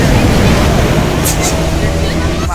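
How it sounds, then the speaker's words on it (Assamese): Big ocean waves crash and roar continuously at Candolim beach in Goa, a loud, dense wash of surf mixed with wind buffeting the microphone and faint voices nearby. "পুৰা ডাঙৰ ডাঙৰ ৱেভ কেণ্ডলিম বিচৰ"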